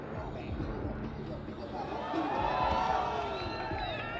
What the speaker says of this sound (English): Listen to the crowd rumble.